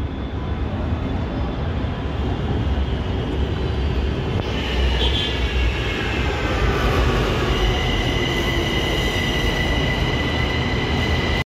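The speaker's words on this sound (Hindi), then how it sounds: "वो आ गई सामने से मेट्रो" A metro train arrives in Gurgaon with a loud, continuous rumble of wheels on rails and squealing brakes rising toward the end, heard up close with no talking.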